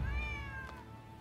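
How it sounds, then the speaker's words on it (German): A single cat meow in the video game Rise of the Ronin, a clear drawn-out call with a falling pitch, heard alone over a low background hum. "Mit einer streuenden Katze habe ich nicht gerechnet."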